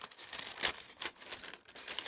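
Paper being cut by hand for a mixed media art journal page, with crisp crinkling and snipping sounds coming in short bursts, close and moderately loud, with no voices.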